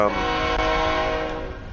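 Real train passes nearby sounding a loud, sustained horn blast, a rich droning chord over the rumble of rolling wagons that slowly fades toward the end.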